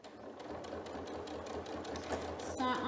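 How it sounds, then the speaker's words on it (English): A sewing machine stitches steadily along a quilt seam as the fabric is guided by hand, a continuous close mechanical whir running the whole time, with a brief higher squeak near the end. "So I'm just guiding it and trying to keep my stitch line on straight and on that seam."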